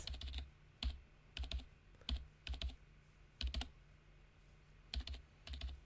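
Faint clusters of rapid video game keyboard-typing sound effects arrive in short bursts with brief pauses, set against a low steady hum.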